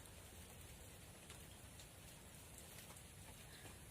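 Steady rain pours down continuously, a dense even hiss with no voices, close and fairly loud throughout.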